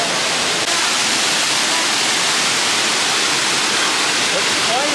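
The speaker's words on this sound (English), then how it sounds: "If you come right to the back of Canada, you can see this waterfall." A waterfall behind the Canada pavilion at Epcot gives a loud, steady, close rushing roar that fills the whole clip.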